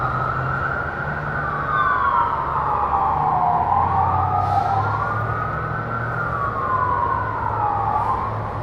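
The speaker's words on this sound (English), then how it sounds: "I guess that's the ambulance and police cars." Ambulance and police car sirens wail loudly and steadily, two tones rising and falling over each other, with low traffic rumble underneath and no speech, in Elizabethtown, Kentucky.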